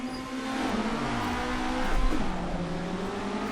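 A period race car with a four-gear box accelerates at the start of a ten-lap race at Tor Poznan in Assetto Corsa, its engine note climbing steadily and loudly with a short shift into second.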